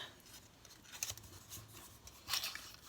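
Origami paper folded by hand, a few soft crisp creases and rustles up close, with a louder crinkle near the end and a quiet room underneath.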